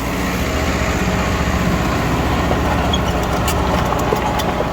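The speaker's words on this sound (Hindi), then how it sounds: "और रोटावेटर के आरपीएम देखो, लो के तीसरे गियर में चल रहा है फिलहाल।" A tractor engine drives a rotavator in low third gear, a steady loud low-frequency drone with a dense continuous rumble that holds throughout and carries no talk.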